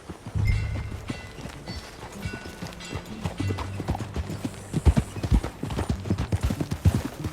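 Steady clip-clop of horse hooves at a quick galloping pace in Red Dead Redemption 2, with occasional louder hoof strikes and faint background rumble.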